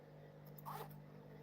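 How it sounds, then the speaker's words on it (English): A zipper on a handmade school bag being handled, a brief soft zip close by over a steady low hum. "this is the zipper"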